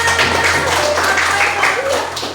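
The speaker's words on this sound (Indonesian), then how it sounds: "tepuk tangan untuk Naila" A group applauds a girl named Naila, a dense, steady wash of clapping with voices mixed in throughout, fairly loud and close.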